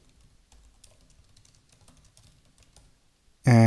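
Fingers type a message on a computer keyboard, a run of quick light key clicks close by, ending in a sudden loud burst.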